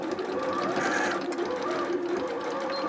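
A sewing machine stitches a pinafore dress, its needle running in a fast, steady, close mechanical whirr that stays even throughout.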